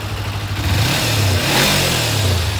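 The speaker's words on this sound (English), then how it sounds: "Bike runs very nicely, very smooth, lightweight, low seat height, user-friendly engine." A stock 2002 Kawasaki Ninja 250 motorcycle engine with about 21,000 miles revs up steadily and close by, a low droning growl rising briefly in pitch, with no voices.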